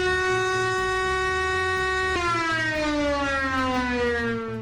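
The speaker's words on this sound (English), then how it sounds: "a freaking air raid siren would go off" An air raid siren wails in a steady, sustained tone, then its pitch slides slowly downward as it winds down, loud and continuous, with a low rhythmic rumble beneath.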